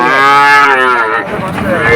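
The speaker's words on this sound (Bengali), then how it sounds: "এই যে এইখানে বাছুর আছে, সুন্দর সুন্দর বাছুর এইখানে দেখা যায়" A calf at a Betaga cattle market moos loudly and close, one long drawn-out call with a strong harmonic tone that fades toward the end amid background market noise.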